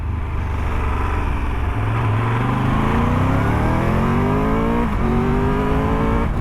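A Triumph Tiger 1200 Rally Pro motorcycle engine accelerating hard on the road, loud and close, its rising drone climbing steadily in pitch with a brief dip at a gear change before pulling up again.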